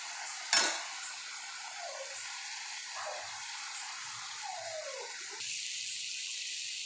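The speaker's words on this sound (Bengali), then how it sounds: "আর একটু কষে নেব।" Spice paste being stirred and sautéed in a pan for palak paneer, a sharp metallic clank at the start, then soft scraping strokes over a faint steady sizzle, close and quiet, no talking.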